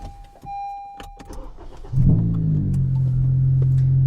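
Honda Civic engine cranks and starts after a brief electronic tone, then settles into a loud, steady idle rumble.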